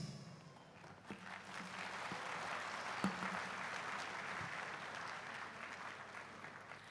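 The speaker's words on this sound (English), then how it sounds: "let us once again offer our heartfelt gratitude and warm applause to His Royal Highness" Ceremony crowd offering warm applause to His Royal Highness at a cultural celebration, sustained even clapping with a few sharper thumps, heard from a distance and not very loud.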